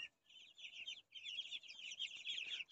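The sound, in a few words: Muscovy duckling chicks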